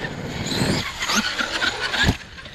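A 30° North 5T RC car runs with its body removed, its motor whirring and tires squealing through quick bursts, with a sharper jolt near the end.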